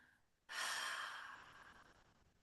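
One sudden, forceful exhale in breathwork practice, starting sharply from near silence and trailing off gradually as an airy hiss, close and alone with no speech.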